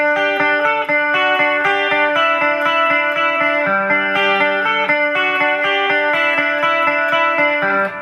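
A clean electric guitar plays a repeating melodic riff with a shimmering chorus effect, bright and sustained, with no voices.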